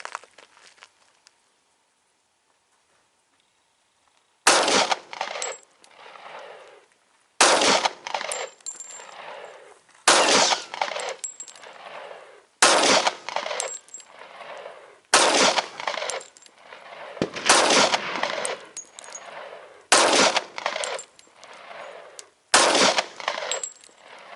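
Smith and Wesson M&P 45 M2.0 pistol firing hand-loaded rounds at an outdoor range: about ten loud, sharp shots in an irregular sequence after a quiet start, each with a ringing tail and spaced a second or two apart.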